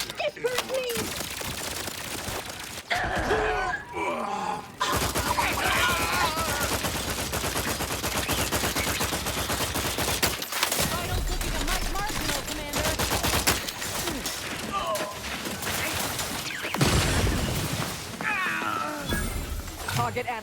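Rapid gunfire bursts in the sci-fi shooter video game The Outer Worlds 2 crackle loudly and almost without pause, with short gaps between volleys and a game character's voice speaking over the shooting.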